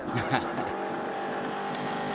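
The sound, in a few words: vintage racing car driving on track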